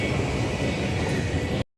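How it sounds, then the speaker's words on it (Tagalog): Steady, loud rumble and rolling hiss of a Singapore MRT metro train in motion, heard from inside the carriage with no talk, cutting off abruptly at the end. "Sakay na kami ng MRT papunta ng The Clemente Mall."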